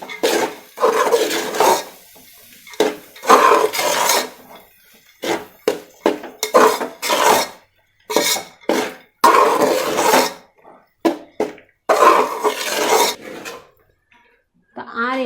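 Keema masala with garam masala is stirred hard in a metal pot, a close series of scraping, clanking spoon strokes in uneven bursts separated by short pauses.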